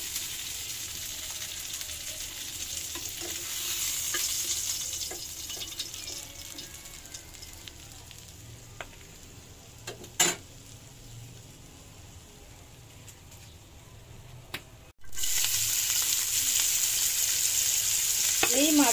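Small hilsa fish fry in a pan with a continuous soft sizzle and crackle, joined by occasional light clinks, a sharp clatter midway and a brief cutout before the frying resumes louder.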